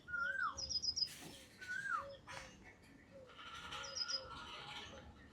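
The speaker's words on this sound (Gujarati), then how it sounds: "કોયલ બોલતી હતી આ બાજુ" An Asian koel calls in a village near Botad, sending out a few distant, faint, sliding whistled notes spaced apart over quiet rural background noise.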